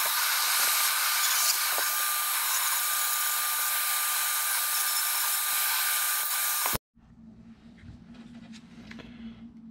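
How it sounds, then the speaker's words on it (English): A rotary tool with a diamond carbide cutter grinding into a Sebart Avanti Mini turbine model plane, a steady high-pitched whine that runs for nearly seven seconds before cutting off abruptly, leaving a low hum. "We're using one of our diamond carbide cutters."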